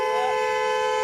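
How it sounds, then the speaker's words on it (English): A car horn blares in one long, steady, unbroken tone that fills the whole short moment at close range, with no voices over it. "Honking my horn at you is not illegal."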